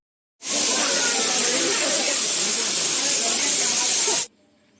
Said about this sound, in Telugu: ఇదే ఈ వాటర్ ఫాల్స్ యొక్క ఒరిజినల్ సౌండ్ అనమాట.